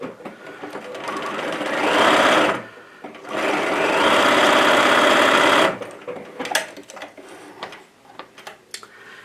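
A sewing machine stitches fabric in two steady, loud runs of rapid mechanical whirring separated by a short pause, followed by quieter handling clicks and rustles.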